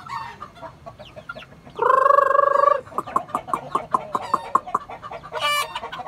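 Free-range village chickens cluck in short rhythmic bursts nearby, with one long drawn-out squawk partway through and a sharp cry near the end.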